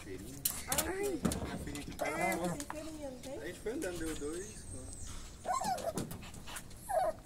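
A dog whimpering in repeated high, wavering whines while a person talks over it, fairly close but quiet overall.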